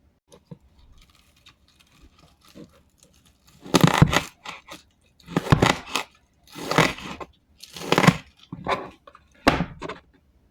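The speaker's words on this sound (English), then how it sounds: "I'm going to chop them for this." Fresh garden spring onions chopped with a knife on a board in a home kitchen, a run of about six crisp, fairly close chopping bursts after a few seconds of near quiet, with no talking.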